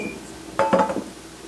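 Mixing bowls being handled in a home kitchen while making cheddar dill bread, giving a brief cluster of clinks and knocks of about half a second, close and fairly loud, then quiet.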